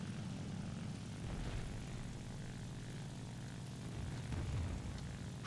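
A propeller aircraft engine diving in the video game War Thunder, a loud continuous droning roar with a steady low throb that swells slightly toward the end.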